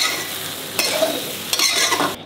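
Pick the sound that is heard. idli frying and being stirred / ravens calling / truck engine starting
idli frying and being stirred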